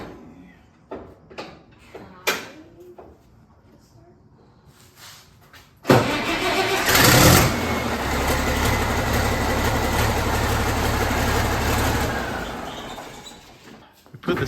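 After a few clicks and knocks, the engine of a 1175 tractor fitted with a new turbo turns over and catches suddenly, then runs at a loud, steady roar for several seconds before easing down.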